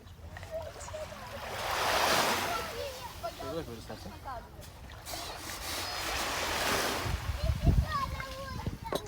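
Gentle waves wash against the shore at a luxury seaside resort in Çeşme, a soft continuous surf swelling and fading, with faint voices and small splashes nearby.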